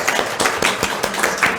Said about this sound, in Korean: 우리 박수로 감사합니다.